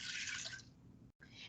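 Water poured into an Instant Pot, a short, quiet stream of liquid that stops abruptly, then continues briefly.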